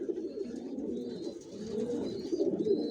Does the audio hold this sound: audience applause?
no